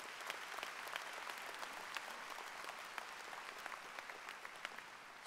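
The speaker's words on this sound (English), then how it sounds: "Give him a round of applause." A commencement ceremony audience breaks into applause, a quiet, even patter of many hands clapping from some distance, continuing steadily without talk.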